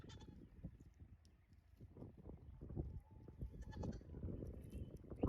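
Goats bleat faintly in short, scattered calls over a soft background of shuffling and movement. The sound is quiet and somewhat distant.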